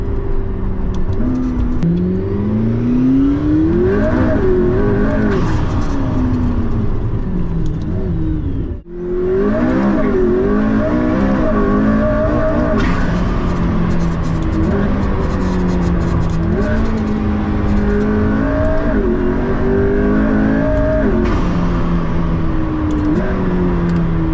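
McLaren P1 supercar engine heard from the cabin, revving up through gears in repeated rising sweeps with brief dips at shifts, loud and continuous throughout, one sharp gap midway.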